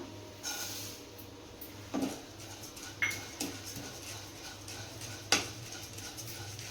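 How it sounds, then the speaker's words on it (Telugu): Flattened rice (poha) being dry-roasted in a pan without oil or ghee, with a few scattered scrapes and clinks of a spoon against the pan over a quiet low hum. "ఇప్పుడు అటుకులు వేగించుకుందాం"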